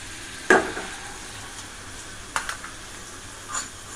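Spoon scrapes and stirs as lemon rice tempering is mixed into cooked rice in a pan off the heat: three short, soft bursts, one near the start and two later, over a quiet kitchen background.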